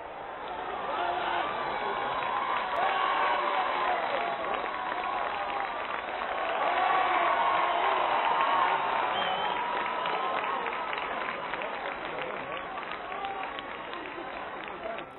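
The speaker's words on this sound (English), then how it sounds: "The Mall, leading to Buckingham Palace, is a solid mass of cheering men and women." A solid mass of cheering men and women fills the Mall leading to Buckingham Palace on VE Day, making a dense, steady roar of voices and clapping that swells slightly midway, heard through a narrow, old-recording tone.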